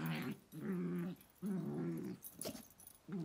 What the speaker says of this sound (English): they fight a lot. But they're just playing because they're just puppies